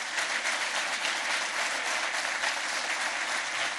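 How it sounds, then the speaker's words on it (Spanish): A large audience at an Argentine book presentation applauds steadily, a dense, even wash of many hands clapping at moderate loudness without any talk over it. "Así que también un aplauso para ellos y para los que no están."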